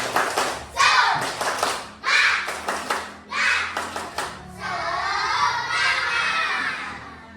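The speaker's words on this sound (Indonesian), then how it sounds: "Coba lagi tepuk semangatnya, tepuk semangat." Schoolchildren in a classroom perform a rhythmic spirit clap, with bursts of shouted chanting and clapping in a patterned beat, then a few seconds of steady, sustained clapping from the whole group.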